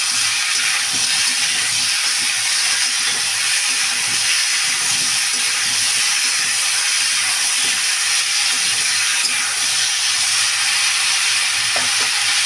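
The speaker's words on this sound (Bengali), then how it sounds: "তার আগে একটু নাড়িয়ে নিই, যাতে নিচে লেগে না যায়।" Chopped cauliflower, kohlrabi and potato sizzle steadily in a hot pan while being stirred, a dense continuous hiss and crackle, close and loud, with no talk.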